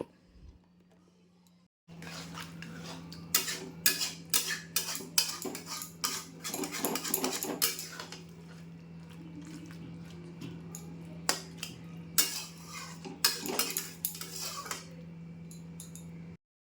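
A utensil scrapes and clinks against a pan as Malabar spinach curry is stirred, with intermittent bursts of scraping over a steady low hum, close and moderately quiet, with no voice heard.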